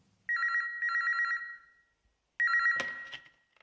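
Telephone ringing indoors: two electronic trilling bursts, a pause, then a third ring cut short by the clatter of the handset being picked up, loud and close with nothing else.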